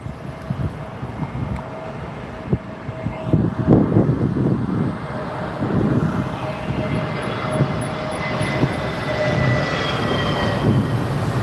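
An Aer Lingus A320 arrives on runway 27R at London Heathrow, its engine roar building and swelling across the clip from moderately far, with scattered rumbling and faint crowd noise around.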